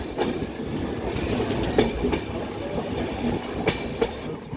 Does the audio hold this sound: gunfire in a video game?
no